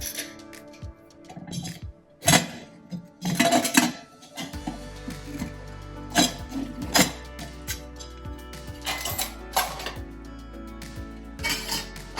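A lid comes off a metal cooking pot holding baked bakarwadi, with sharp clanks and clinks of metal on metal, several close knocks, then quieter handling sounds with no talking.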